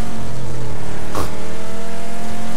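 A convertible car driving in the battle royale game PUBG, its engine a loud, steady drone with a brief whoosh midway, running alone without talk.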